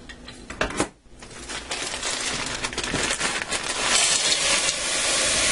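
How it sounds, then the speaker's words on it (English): A 16-ounce bag of mixed vegetables tips into a saucepan on a stovetop turned to high, giving a sharp rattling clatter of pieces hitting the pan, then a steady hiss and rustle that builds and holds. "I'm going to dump them in the saucepan"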